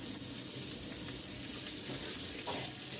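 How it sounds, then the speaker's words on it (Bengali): Sliced onions sizzle in a pan with garlic paste, a continuous close hiss and crackle with faint stirring, no speech over it. "পেঁয়াজকে ভালো করে ভাজতে হবে যাতে এটা আধা সিদ্ধ হয়"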